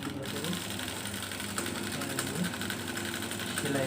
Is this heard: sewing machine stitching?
yes